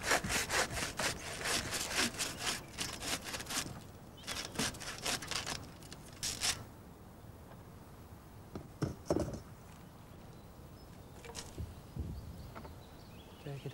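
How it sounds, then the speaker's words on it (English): A hand saw cuts through the ends of a wire-bound bundle of coppice wood, with fast, rhythmic rasping strokes close by, then a pause followed by a few scattered knocks and rubs on the wood. "I then saw the ends off."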